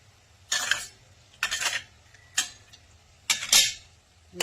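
Mustard powder is stirred into hot oil in a cooking pan, a utensil scraping and clinking against the metal in five separate close strokes with quiet gaps between them.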